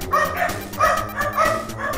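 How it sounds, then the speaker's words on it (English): A dog barks three times in a quick, even rhythm, each bark loud and close with a sharp tonal yelp, with no speech over it. "Oh my god, the fucking dog scared me."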